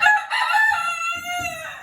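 A rooster crows loudly and close by, one long drawn-out call with a high, strained pitch that tapers off at the end.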